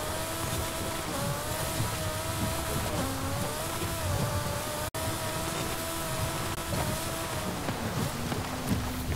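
A 1962 Peel P50 microcar driven off-road in Forza Horizon 5 on off-road tires and suspension, with a strained, buzzing engine note wavering in pitch over steady wind and rumble. No one speaks.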